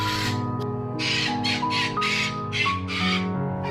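A parrot squawks in a run of harsh, repeated calls, close and loud, over a steady background of other sound.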